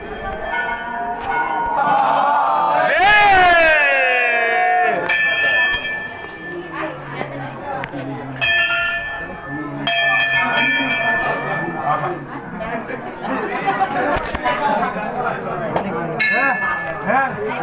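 Bells ring repeatedly with bright metallic tones amid a dense crowd at a Bhagwati temple aarti in Madhubani, with chanting and talk mixed throughout.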